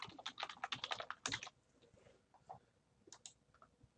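Someone types a comment on a computer keyboard while grading a Moodle 3.4 assignment: a quick close burst of keystrokes, then a few scattered clicks and taps in a quiet room.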